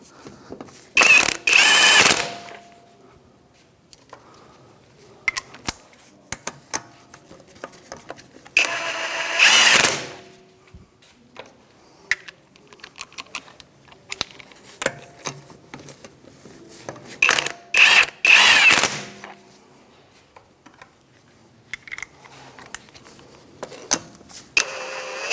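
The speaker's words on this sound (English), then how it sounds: "with the 17mm socket, we'll go ahead and snug up these bolts" Power-tool bursts tightening the 17mm control arm bolts on a 2007-2013 Mitsubishi Outlander, several loud whirring runs of about a second each, with metallic clinks and ratchet clicks between them and no talking.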